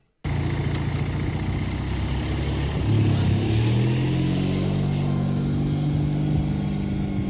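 Small garden mini tractor engines (KhTZ 012, AMZhK 8, Prykarpatets) running close by, a loud steady engine drone that starts abruptly and rises in pitch as it revs, then holds a constant throb.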